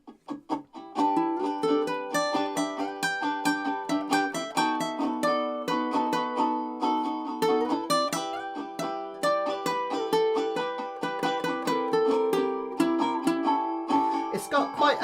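Bright plucked ukulele notes run in quick melodic phrases over a steady backing track, continuous and fairly close.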